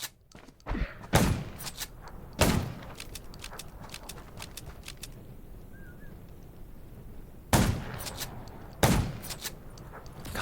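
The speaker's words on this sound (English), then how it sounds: "Gunshots." Gunfire in the zombie survival video game Undawn: a few sharp, loud shots and quick bursts spaced across a quiet backdrop, with clusters near the start and later on, no talking.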